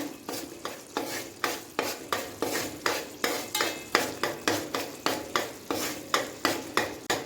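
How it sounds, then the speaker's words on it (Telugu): A utensil stirs jaggery syrup in a pan for murmura laddu, scraping in a steady rhythm of about two to three strokes per second, close and fairly quiet, with no talking. "పాకం వచ్చే వరకు కూడా మనం ఇలా కలుపుతూ ఉండాలి"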